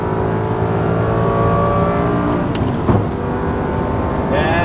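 A 2006 Lamborghini Gallardo with a 6-speed manual pulls hard under throttle, its engine a loud, steady drone with layered rising harmonics. There is a brief shift-like dip near the end, heard close from inside or beside the car, with a faint voice underneath.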